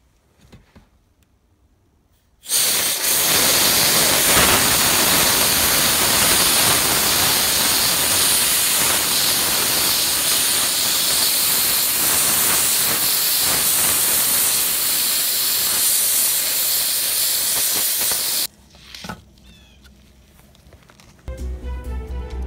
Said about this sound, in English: We are going to use a high-pressure steamer to open up the clog as much as possible.